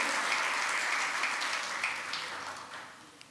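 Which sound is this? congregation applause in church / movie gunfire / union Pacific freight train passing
congregation applause in church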